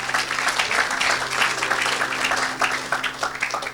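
A church congregation claps and applauds together, a steady dense wash of hand claps at moderate loudness throughout, with voices faintly mixed in.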